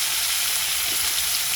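Fish frying in a hot pan gives a steady, close broadband sizzle that holds evenly for the whole short moment, with no voices over it.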